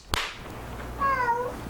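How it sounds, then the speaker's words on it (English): A cat meows once indoors, a clear drawn-out mid-pitched call following a sharp click, close by and alone over a low background hum. "damn cats, I'm sorry"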